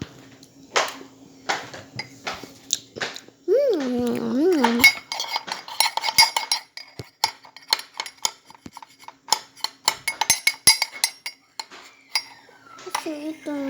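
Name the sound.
mixing food in a dish with utensils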